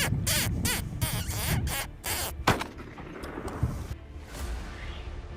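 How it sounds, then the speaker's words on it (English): Gunshots crack out across open, deserted rural fields: several sharp reports in quick succession, then fainter scattered shots and rumbling echoes trailing off. "Gunshots echoed across the deserted fields."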